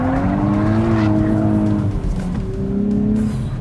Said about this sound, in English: technically that was a power slide